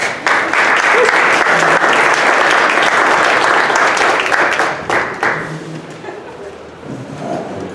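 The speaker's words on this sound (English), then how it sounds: "Let's get a round of applause." Event audience gives panelists a loud round of applause, full and sustained for several seconds before tapering into scattered claps and murmuring voices.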